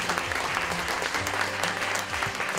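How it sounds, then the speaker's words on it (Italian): Steady applause from a conference audience at a dentistry convention fills the whole moment, dense and continuous, with many hands clapping at once. "vi chiederei un applauso ancora per Antonio Miclavez"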